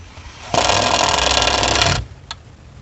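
A power driver runs a 5/16 lag screw into a service disconnect box on vinyl siding for an HVAC condenser unit, one loud continuous burst of about one and a half seconds, then quiet.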